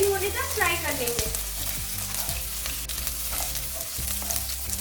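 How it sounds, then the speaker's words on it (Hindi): Capsicum fries in oil in a kadai, a loud close hiss with stirring scrapes and a couple of sharp knocks of a spatula on the pan, heard alone. "अभी उसी ऑयल में हम कैप्सिकम को फ्राई करेंगे"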